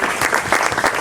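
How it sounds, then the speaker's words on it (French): An audience at a live show applauds performers: dense, continuous clapping from many hands, close and full, over a brief stretch. "Je voudrais qu'on applaudisse bien fort Zachary Nyogué et Chantal Eddy"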